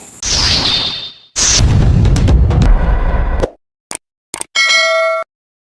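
A notification bell sound effect rings out loud and bright, bell-like dings and metallic clangs alternating with a whoosh and short bursts, ending in a sustained chime.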